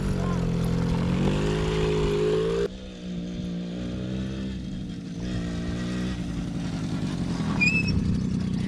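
A Suzuki 50cc two-stroke engine running steadily after an oil leak repair and carb clean, a buzzing drone that shifts pitch slightly, close and continuous with no talking.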